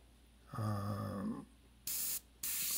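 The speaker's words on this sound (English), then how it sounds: "Spray on the shield and let a little bit go off." Paint sprayed onto a frisket shield, heard as two short, loud hissing bursts in quick succession after a steady droning tone.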